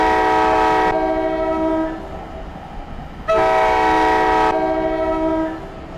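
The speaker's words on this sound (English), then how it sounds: "Let's hear that horn one more time." A train horn on the Northeast Corridor between New York and Stamford sounds two long, loud blasts, separated by a short gap, over the steady rumble of the moving train.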